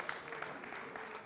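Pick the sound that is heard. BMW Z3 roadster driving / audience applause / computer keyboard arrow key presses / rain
audience applause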